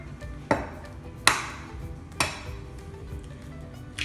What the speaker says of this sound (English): Let me crack the egg.